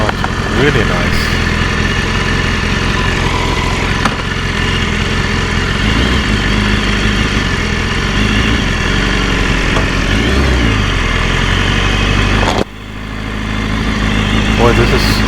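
A 2015 BMW S1000RR motorcycle engine idles steadily and loudly up close, a smooth continuous rumble with a brief dip near the end before settling back, while someone talks over it.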